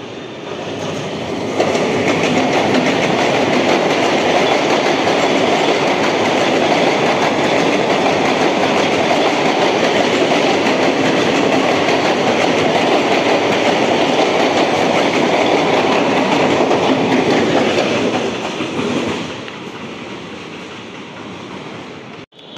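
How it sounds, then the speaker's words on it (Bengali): A down Shantipur local train of the Sealdah division rolls past close by, a loud continuous roar of wheels and carriages with rhythmic clatter that runs for about twenty seconds and then cuts away abruptly. "ওদিকে ডাউন শান্তিপুর আসছে।"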